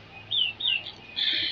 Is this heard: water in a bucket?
no